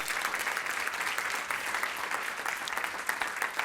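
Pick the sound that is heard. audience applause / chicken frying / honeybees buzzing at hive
audience applause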